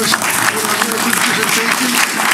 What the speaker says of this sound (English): Let's give him a nice round of applause.